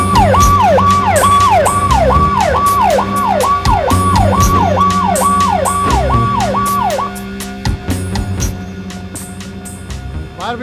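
A fire brigade vehicle's siren wails in a rapid rising-and-falling cycle, loud and close over heavy engine and traffic noise, then cuts out partway through while the rumbling and clatter continue.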